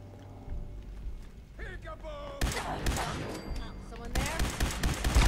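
Rifle gunfire rattles in bursts during a Fallout 4 firefight, sharp repeated shots coming close together over a busy game soundscape, with a voice talking at points.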